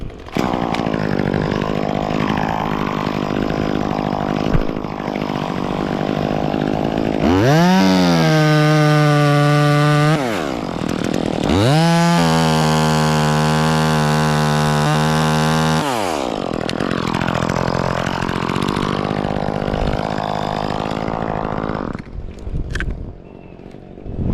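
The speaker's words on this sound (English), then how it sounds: "All right, I'm cutting a branch." An Echo 2511 chainsaw cuts a white pine branch up in a tree near a house, idling then revving hard through two loud cutting bursts before dropping back to a rough idle and cutting off; close and dominant.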